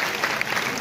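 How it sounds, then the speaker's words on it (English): An audience at the AOPSACON 2024 physiotherapy conference applauds a prize winner. The clapping is dense and continuous, heard in a short burst that fills the hall, with faint voices underneath. "Please give a huge round of applause."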